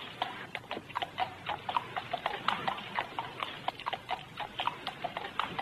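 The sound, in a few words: horses walking, hooves clip-clopping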